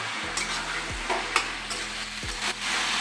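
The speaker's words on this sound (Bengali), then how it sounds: "এবার একটু কষিয়ে নেব সবজিটাকে" Mixed vegetables stir-fry in a pan under a steady, loud close sizzle, with a spatula scraping and turning them at a few spaced moments, without any speech.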